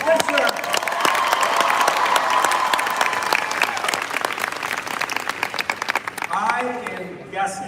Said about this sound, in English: How about another huge round of applause for Jordan Fisher?